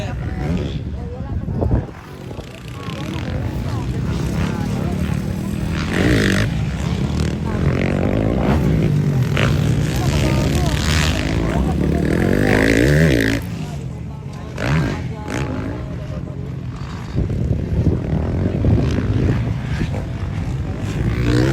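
Motocross motorcycle engines race in a Pro 1 heat at a competition in Passi City, revving and droning loudly through the whole stretch with pitch rising and falling, a commentator's voice running over the top.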